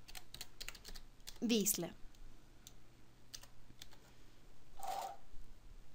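Keys clatter on a computer keyboard in a quick burst of close taps, then scattered single clicks, over a faint steady hum, with someone speaking briefly in between.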